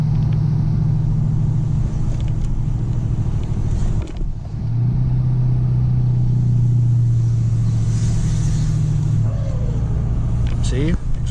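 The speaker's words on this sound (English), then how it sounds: "See, exhaust brake's working how it should." A heavy diesel tow truck engine drones with a low, steady rumble as the butterfly-valve exhaust brake holds back speed on a downgrade, with a voice speaking over it.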